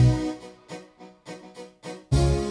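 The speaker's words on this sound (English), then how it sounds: "I used the bass." Punchy bass notes in a hip-hop style production track, struck in a stop-start rhythm of short hits with gaps between them, ending on a sustained heavy low note, with no vocals over it.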